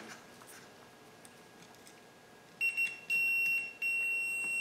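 A multimeter's continuity beeper sounds during a pin test on a 1970-81 Camaro wiper switch: three sharp, steady electronic tones, the second longest, cut in after a quiet stretch of faint room noise.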